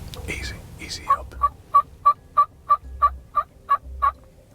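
A wild turkey tom gobbles out in a field, a rapid series of about eleven evenly spaced, throaty pulses rattling off in a quick burst, clear and moderately near in a quiet outdoor setting.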